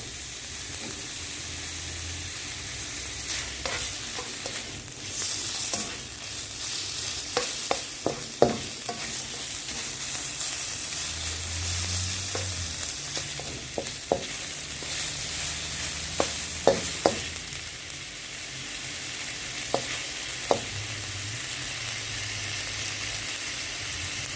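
Lobster sizzles in a pan over medium-low heat, a steady frying hiss runs throughout, broken by scattered utensil scrapes and taps as the pieces are stirred, close and without talking.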